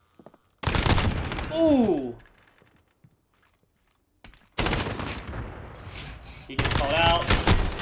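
Bursts of MP7 submachine gun fire in a video game, sharp rapid volleys coming in short clusters separated by a quiet gap, with voices talking over the shooting.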